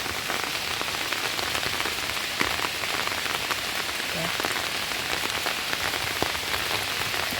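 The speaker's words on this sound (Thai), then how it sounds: "ฝนตกครับ" Steady rain falls on a forest during mushroom foraging, a dense continuous hiss of drops pattering on leaves and the ground, even in loudness throughout with no talking.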